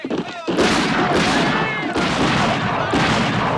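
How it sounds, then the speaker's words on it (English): Volleys of gunfire crash through a film battle scene, several heavy bursts of massed shots and booms arriving about once a second, loud and close, with voices shouting beneath. "Looks like they're shooting at each other."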